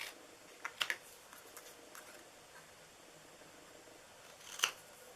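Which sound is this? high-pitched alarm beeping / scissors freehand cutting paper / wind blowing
scissors freehand cutting paper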